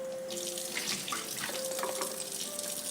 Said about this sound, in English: Kind of just give this a rinse.